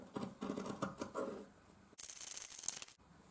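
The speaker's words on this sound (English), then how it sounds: "And then some fabric scissors to cut around the outside." Fabric scissors cut around a paper template pinned to fabric for a sewn toy elephant, giving short, close crisp snips in quick bursts with brief pauses between them.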